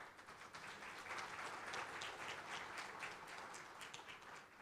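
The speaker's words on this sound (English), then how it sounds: "How about warming up a bit with a good round of applause to start with?" Round of applause from the audience at the ET MSME Awards ceremony, a steady dense wash of many hands clapping that holds evenly throughout.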